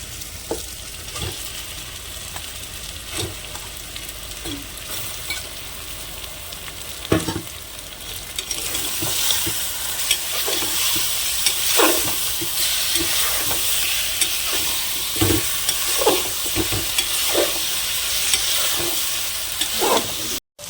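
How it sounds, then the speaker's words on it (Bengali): Chicken poured into a hot pan for yakhni chicken pulao: a steady sizzle that grows louder and brighter midway as the meat hits the oil, punctuated by repeated scraping and knocking stirs, no talking. "এবার আমি চিকেনটা ঢেলে দেবো।"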